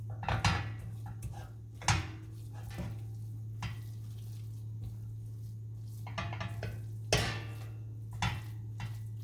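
Vegan sausage ingredients being mixed with a spoonful of olive oil in a bowl, irregular close knocks and scrapes of a utensil against the dish over a steady low hum, with no talking.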